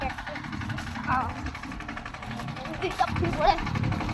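A tractor engine idles with a low, uneven throb close by, and people talk over it.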